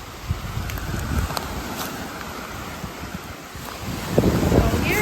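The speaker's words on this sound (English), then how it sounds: "here's the racket that is Lake Huron rolling in today because it's pretty windy" Windy Lake Huron surf rolling onto a beach, a steady broadband wash with wind buffeting the microphone and a louder wave surge near the end.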